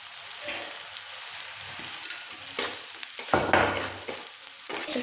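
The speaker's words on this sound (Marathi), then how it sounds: "आणि मस्तपैकी असं परतून घेऊया" A black peas curry base with Kolhapuri chili powder sautés in a pan, with a soft, steady sizzle broken by several close spatula scrapes and stirs, and no talking.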